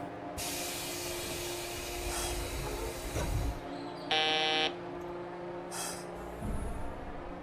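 A guard's buzzer sounds in a train simulator game, one short, bright, steady tone standing out over hissing air and a low cab hum, with softer hiss bursts around it.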